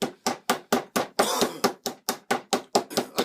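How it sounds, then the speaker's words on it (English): A meat mallet pounds a bottom round steak in a butcher's shop, a dozen loud, evenly spaced thuds close up, one longer rough scraping blow near the middle, no talk. "We're just tenderizing that meat, making sure it's nice and even."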